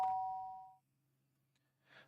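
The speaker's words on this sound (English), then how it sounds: "The sharp sound of the doorbell pierced my sleepy haze and pulled me back to the real world." A two-tone ding-dong doorbell chime in the Danganronpa video game rings once, loud and close, then fades into a quiet room hum with a faint rustle near the end.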